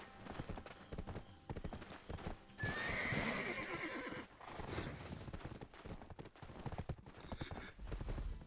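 A horse in the online game Black Desert Online gives a loud, clear whinny near the middle, set among steady clip-clopping hoofbeats and other game effects, with no talk over it.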